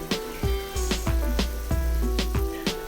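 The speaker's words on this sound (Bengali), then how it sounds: "কাঁচা আদা এবং রসুনের গন্ধটা যাওয়ার আগ পর্যন্ত এটা ভেজে নিব" Ginger and garlic frying in oil for a Bengali boal fish curry, a steady crackling sizzle punctuated by sharp, regular clinks of a spatula against the pan.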